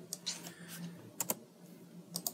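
Quick, irregular keystrokes on a computer keyboard, a handful of light clicks with brief pauses between bursts, close and fairly quiet over a faint hum.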